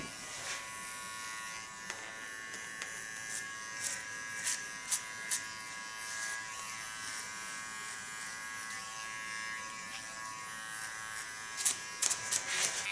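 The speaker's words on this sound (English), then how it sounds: "The noise of this clipper is also very gently." A cordless hair clipper buzzes steadily and quietly while cutting hair in a salon, a constant high-pitched motor hum with small clicks and snips rising above it near the end.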